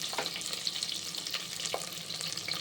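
Onions and curry leaves frying in an Indian home-kitchen pan for pongal: a steady, fairly quiet sizzle that crackles throughout, with a few faint stirring scrapes and no voices.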